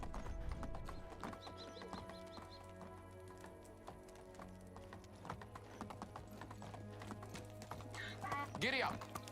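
Horse hooves clip-clop at a steady walking pace in the medieval farming game Medieval Dynasty, with game ambience underneath and a brief whinny near the end.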